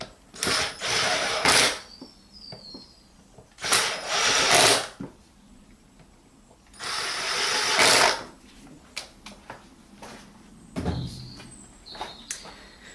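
A power screwdriver backing three Torx screws out of a 2013 Peugeot 208 air filter cover, three loud whirring bursts of a few seconds each separated by quiet pauses and small clicks.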